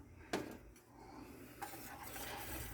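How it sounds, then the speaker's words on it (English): A pot on the stove gets a quick stir, with a sharp metal clink of the spoon against the side, then a low, quiet bubbling simmer and a second soft scrape, close by and without talking. "I'm going to give it another quick stir here."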